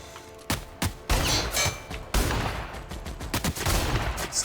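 Turret gunfire in The Outer Worlds, a series of sharp loud bursts and booming shots over several seconds, some spaced and some clustered in rapid volleys.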